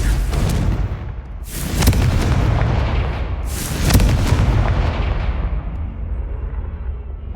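A Confringo fire spell explodes in Hogwarts Legacy, two loud booming blasts about two seconds apart, each with a sharp crack and a rumbling tail that fades into a low roar.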